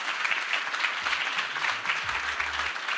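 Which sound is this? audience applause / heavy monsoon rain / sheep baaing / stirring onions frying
audience applause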